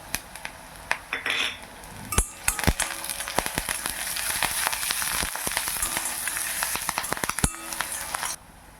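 Green chillies and curry leaves frying in oil in a pan, a bright crackling sizzle with repeated metallic clinks and scrapes of a spoon, busy and close, stopping abruptly near the end.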